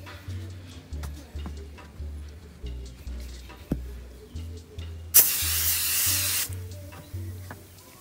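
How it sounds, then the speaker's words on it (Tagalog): A multipurpose foam cleaner sprayed onto a car seat gives one loud, sustained hiss of about a second, set against a quieter rhythmic low thumping and ticking in the background. "ito yung portion na hindi ko na-sprayan kasi natabunan ng seatbelt natin, so spray natin yan ngayon"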